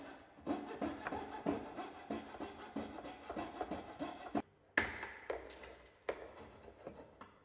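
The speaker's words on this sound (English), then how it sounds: "Take care at this stage to ensure that the coping saw blade is cutting square to the face of the skirting" A coping saw cuts through timber skirting board in quick, regular back-and-forth strokes, each rasping pass distinct and close, with a brief pause partway through before the sawing resumes.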